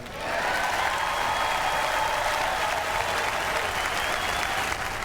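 A large arena crowd applauds during Trump's acceptance speech, loud continuous clapping mixed with crowd roar, steady from start to finish.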